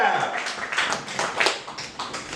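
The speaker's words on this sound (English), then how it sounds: "Give a round of applause for yourselves." Audience applause at a monthly standup comedy show: a room of clapping hands, steady and dense, swelling and fading slightly over a couple of seconds.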